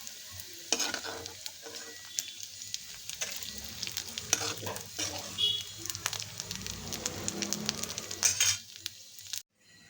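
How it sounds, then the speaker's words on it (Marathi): Bombay duck fish fry crisp in hot oil in a pan, a steady close sizzle with crackles and the scrape of stirring throughout, no voices. "कडक होईपर्यंत आपण तळून घेणार आहोत।"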